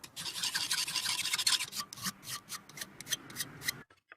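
A metal piece is hand-filed into an oval shape during a DIY restoration: a steady run of close, scratchy rasping strokes in a quick back-and-forth rhythm, stopping just before the end.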